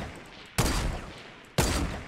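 An auto sniper rifle fires in a tournament video game, with two loud, abrupt shots about a second apart, each followed by a short decaying tail.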